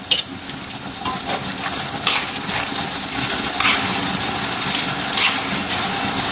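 Curry leaves and lime leaves frying briefly in hot oil while grated tempeh is prepared, giving a steady, close hiss and crackle with scattered sharper pops throughout.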